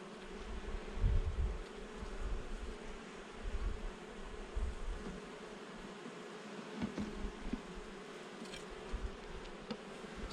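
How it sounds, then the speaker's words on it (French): Bees and a wasp buzzing around a beehive, a continuous close insect drone that swells and fades as they fly past, with faint handling noises. "Deux, trois abeilles, une guêpe."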